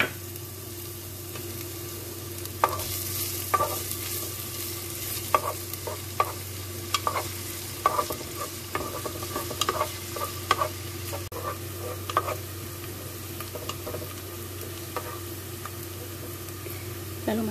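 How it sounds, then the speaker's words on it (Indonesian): Onions being sautéed in a pan, with a steady hot sizzle under repeated scraping strokes of a spoon stirring them throughout, close and continuous. "Lalu tumis bawang bombay. Ditumis sampai layu."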